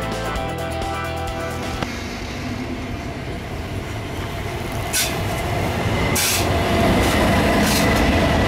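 An Intercity train at Stuttgart main station rolls through, with continuous rumbling, wheel noise and brief squeals, loud and close, growing denser toward the end.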